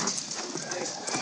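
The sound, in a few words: horses clip-clopping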